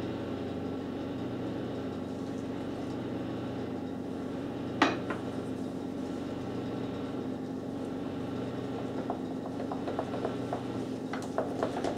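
A spatula stirs mashed potato with cream or milk in a pot, giving soft, scattered scrapes and clinks against the metal, one sharper knock partway through and a cluster of light taps toward the end, all fairly quiet.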